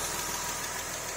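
A Porsche 996 with its 3.4-litre flat-six, freshly reinstalled, runs at a steady idle close by, giving a dense, even drone with a fine low pulse and no talk over it.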